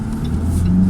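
A diesel car engine revs up from low rpm, a close, loud low hum that rises slightly in pitch and strength over under a second.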